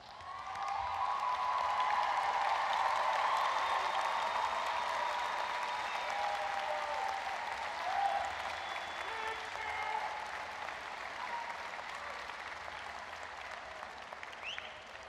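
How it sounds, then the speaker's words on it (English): Standing graduates at a 2019 commencement ceremony give a big round of applause, a broad sustained wash of clapping in a large hall with some cheering, swelling early then slowly tapering off. "please stand and give a big round of applause for your families and friends"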